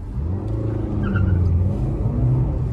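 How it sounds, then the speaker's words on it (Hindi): Car engine with an LPG kit installed revving up toward 4000 rpm, a steady close droning roar rising in pitch under the cabin, without talk. "4000 आरपीएम तक पहुंच गया है।"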